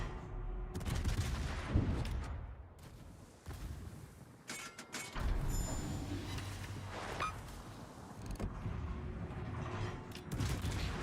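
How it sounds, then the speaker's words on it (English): Naval gunfire in World of Warships, heavy booming salvos and bursts arriving in several separate clusters, fairly loud, with quieter gaps between them and no talking. "He's shooting at me."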